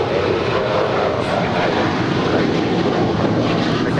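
A United 737-900 ER jet departing LAX for Denver gives a steady, loud engine roar with a broad rushing tone that holds evenly throughout.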